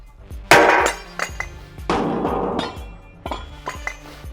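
A steel trailer hitch ball thrown hard onto a metal off-road skid plate, giving two loud clanging impacts followed by smaller rattling knocks and bounces, close and without talk.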